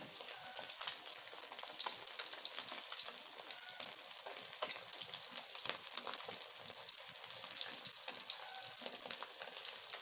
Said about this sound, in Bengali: তেলের মাছেই তেল ভাজা, কি মাছের তেলে মাছ ভাজা